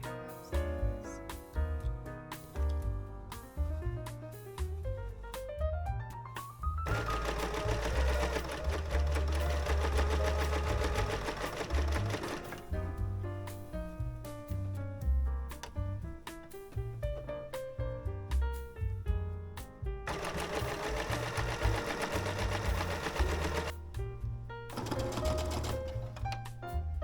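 Home sewing machine top stitching a garment with elastic already sewn in, its motor running in long steady bursts with short pauses, close and fairly loud, alongside music.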